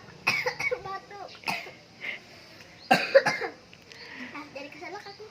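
A woman storyteller coughs in a few short, sharp bursts between stretches of her speaking voice, close to the microphone and moderately loud.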